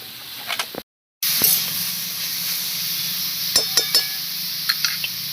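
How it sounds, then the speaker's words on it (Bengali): Grated papaya being stirred into hot spiced tempering in a pan for a vegetarian papaya ghonto: a steady close sizzle and hiss with scattered clicks and scrapes from the spatula, broken by one brief cut to silence early on. "ভালো করে মিশিয়ে নেব"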